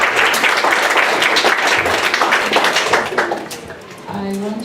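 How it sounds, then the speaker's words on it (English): Audience applause at an Access International School event, a steady dense clapping from a crowd that stays loud for several seconds, then thins and fades toward the end. "Can we give him another round of applause?"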